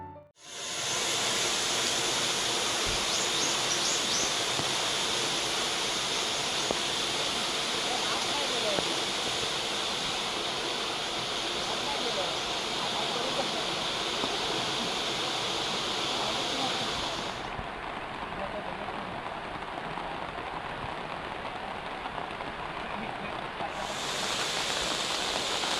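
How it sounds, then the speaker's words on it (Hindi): Steady, loud rushing roar of the Kajali river in flood during heavy monsoon rain in Ratnagiri, Maharashtra, unbroken and dense from start to end. "महाराष्ट्र के तनागिरी में लगातार भारी बारिश के कारण काजली नदी उफान पर है"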